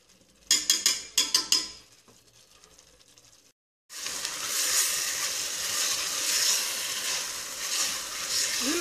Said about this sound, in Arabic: ونكمل نقلي كلش مع بعض.